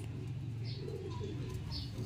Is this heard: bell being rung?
no